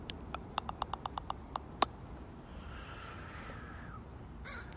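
Crows caw in a quick run of sharp, evenly spaced calls, one louder than the rest, over a soft steady outdoor hiss; the calls then stop and only the hushed ambience remains.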